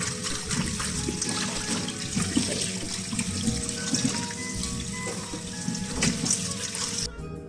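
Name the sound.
washing marinated chicken under running tap water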